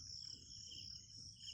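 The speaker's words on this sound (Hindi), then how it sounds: "पक्षी बोल रहे हैं, सुन सकते हैं आप उनकी आवाज़।" Outdoors at sunrise beneath a peepal tree, birds and insects keep up a steady high-pitched trilling chorus over a low rumbling background, faint and continuous, with no one talking.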